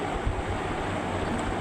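Beef bhuna frying in a pan, a steady loud sizzle that stays even and continuous throughout, close by and with no voices.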